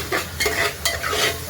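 A pan of spicy Kaliya-style masala for mutton curry is stirred with a utensil, giving a few scraping strokes over a continuous sizzle, close and fairly loud, with no voices.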